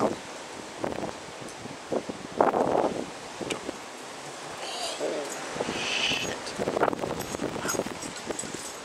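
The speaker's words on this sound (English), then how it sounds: "all of a sudden it just started getting insanely windy" Strong wind gusts on an early Christmas morning in Plattsburgh, New York, roaring and rustling in uneven surges that build and fade, with wind buffeting the microphone throughout.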